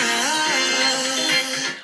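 A song plays at full volume through the built-in speakers of an M2 MacBook Pro, a dense, loud mix of sustained melodic tones that stays steady and fills the whole range before dropping off briefly at the end.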